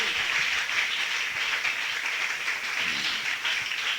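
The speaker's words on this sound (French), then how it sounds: "Acclamons pour le Seigneur" A church congregation applauds in praise, a dense, steady wash of clapping that carries on without a break for the whole stretch, fairly loud and close.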